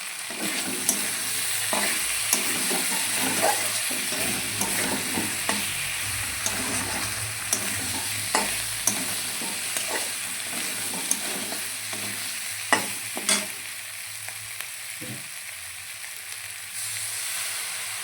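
Chicken frying in a pan while being stirred, a steady loud sizzle running throughout with sharp spatula scrapes and clacks scattered on top, close up and with no voices.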